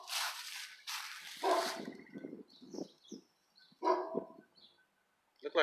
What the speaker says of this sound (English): That's a big ass dog.